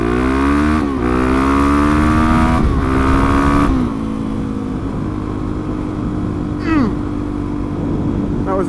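A Suzuki DRZ400SM supermoto motorcycle engine revs up through the gears while riding, close and loud, with rising pitch sweeps, a shift, then a steady drone and another brief rev.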